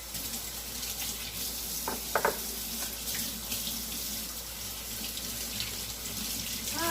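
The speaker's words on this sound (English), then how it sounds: "Wash my hands." A kitchen tap runs steadily as hands are washed under it, a close continuous splashing stream with a couple of brief knocks, no talk.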